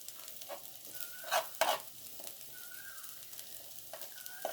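Chopped garlic sizzles softly in a pan while being stirred, cooked for noodle-stuffed potato chops; a quiet steady fry with a couple of louder scraping stirs and no talking.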